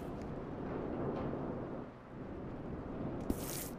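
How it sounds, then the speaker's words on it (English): A thunderstorm rolls through Red Dead Redemption 2, with low distant thunder rumbling and a wash of rain and wind, fairly faint, ending in a brief hissing gust. "When the storm breaks, we move."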